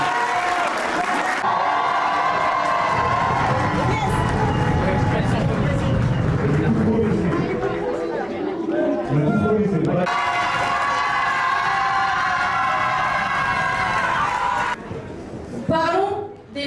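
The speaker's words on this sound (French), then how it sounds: "Est-ce qu'on peut les applaudir s'il vous plaît?" An audience at a youth eloquence contest applauds loudly, with sustained clapping and cheering mixed with voices and background music, which fades out toward the end.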